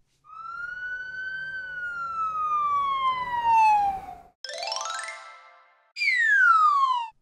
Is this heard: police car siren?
yes